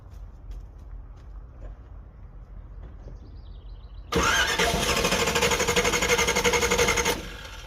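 Engine in a 1986 square body truck, quiet ticking at first, then a loud rev that kicks in abruptly and holds with a raspy roar for about three seconds before dropping back down.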